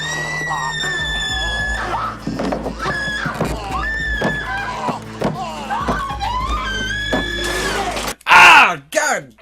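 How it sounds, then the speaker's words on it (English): Screaming from the 1990 horror film Night of the Living Dead: drawn-out, wavering shrieks and cries over a rumbling soundtrack, rising to a loud, harsh burst near the end. "here comes that part of the movie where it's nothing but screaming for 20 minutes"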